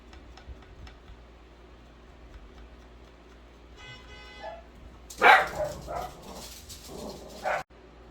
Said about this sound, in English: the dogs were going crazy